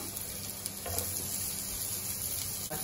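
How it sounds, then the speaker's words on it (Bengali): Onion, capsicum and green chili sizzling in hot white oil on a tawa for street-style egg rolls, a steady close frying hiss with a brief louder burst near the start, no voices. "তেল গরম হয়ে গেলে দিয়ে দেব আমি পেঁয়াজ, ক্যাপসিকাম,"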